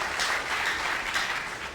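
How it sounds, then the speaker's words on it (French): An audience at a prize-giving ceremony applauds a winner, a brief burst of steady, moderately distant clapping from many hands. "Vous pouvez l'applaudir s'il vous plaît."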